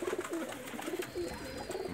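Soft, repeated coos of Pakistani flying pigeons at low pitch with short pauses between them, heard a little way off over faint background noise.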